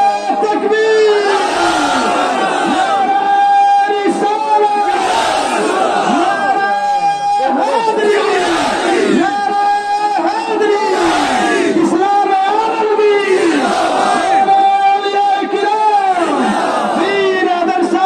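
A large crowd at a Sufi religious gathering chants the Takbir slogan in loud, repeated unison calls with rising and falling voices, the chant cycling every few seconds and filling the whole stretch without pause.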